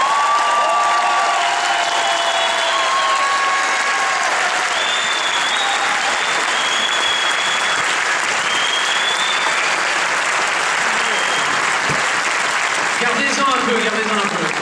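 Large audience applauding warmly at a farewell tribute to a longtime ringmaster, sustained dense clapping throughout with a few faint cheers and a voice speaking over the crowd.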